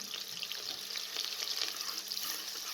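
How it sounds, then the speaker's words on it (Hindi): Onion and half a cup of cooking oil sizzling inside a pressure cooker while making dhaba-style moong dal, a steady close crackling hiss with faint stirring and clinks throughout. "ये मैंने कुकर के अंदर हाफ़ कप कुकिंग ऑयल को शामिल किया है। इसके अंदर प्याज को शामिल कर दें"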